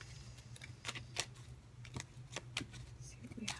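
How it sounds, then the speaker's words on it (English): Tarot cards being shuffled by hand, a quiet series of crisp riffling snaps and flicks at irregular intervals, close and faint against low room hum, with no talking. "I'm going to keep shuffling."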